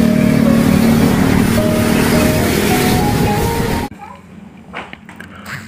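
A swaying telolet bus sounds sustained melodic horn tones over a loud, noisy rumble for nearly four seconds, then cuts off abruptly to a much quieter background.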